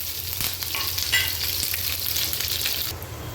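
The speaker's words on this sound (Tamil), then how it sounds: "மிளகாலாம் நல்லா வசங்கிடுச்சு." Green chillies and curry leaves fry with mustard seeds in hot oil, giving a close, continuous sizzle with occasional stirring scrapes and no talking.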